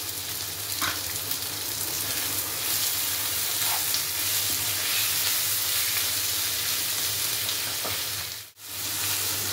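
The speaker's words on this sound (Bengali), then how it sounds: "টমেটোটাও ভালো করে একটু ভেজে নেব।" Chopped tomato frying with salt in a pan of oil, cooking for a mutton curry with papaya and potato, gives a steady, loud, continuous sizzle with a brief dip near the end.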